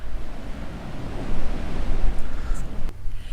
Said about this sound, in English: we can't see the bottom, but we can hear the ocean below.